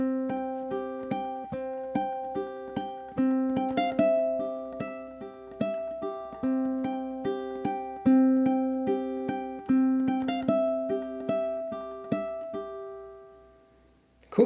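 Ukulele fingerpicked up close in a quick, even rhythm, playing the first four bars of a melody with bright plucked notes ringing over one another, solo and unaccompanied.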